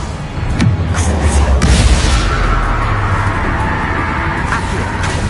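A Confringo blast spell exploding in the video game Hogwarts Legacy, a heavy booming burst with a deep rumble and crackling debris, loud and close, fading into a sustained roar.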